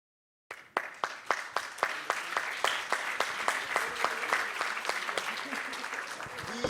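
Applause at a French peer-support colloquium, opening abruptly with sharp, distinct hand claps in a steady rhythm that thicken into a denser, even clatter from a modest crowd.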